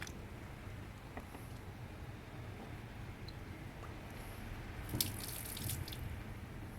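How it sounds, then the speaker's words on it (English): Hot water poured into a cafetière to warm it before brewing, a soft steady watery wash with faint drips that brightens briefly near the end, quiet and close with no voices. "Typically we'll put a bit of hot water in first,"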